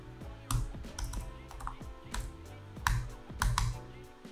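Close typing on a computer keyboard while writing Swift code, with irregular clacks and bursts of keystrokes, a few heavier presses standing out, and no talking.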